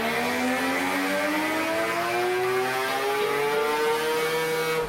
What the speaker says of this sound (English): we were off to ST High Tech, where my man Boomer was tuning the car. Everything was on song